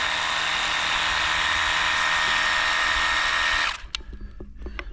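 A Worx WG629.2 20-volt cordless portable pressure washer sprays steadily as a loud, hissing broadband jet cleaning out a crack, running continuously for nearly four seconds before cutting off abruptly, followed by faint clicks and rustles.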